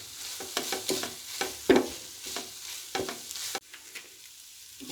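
Keema sandwich filling being fried and stirred in a pan, a close sizzle with repeated scraping stirs in a loose rhythm, the sizzle dropping suddenly near the end to a quieter hiss, with no talking.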